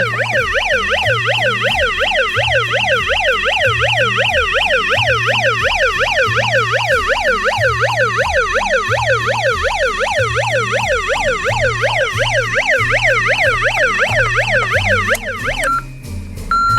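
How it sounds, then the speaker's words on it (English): A loud, close electronic siren from a 1994 Hess rescue toy truck wails in a rapid, steady up-and-down sweep, with a rhythmic low tone pulsing beneath, then cuts off abruptly. "We got the siren."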